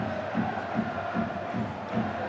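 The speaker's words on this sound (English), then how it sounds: "look at that big following that Warrington have brought. They're getting behind the side now" Warrington fans in the stands at a rugby league match against Huddersfield keep up a steady crowd roar with rhythmic chanting pulses, heard from a distance as a broad wash of noise.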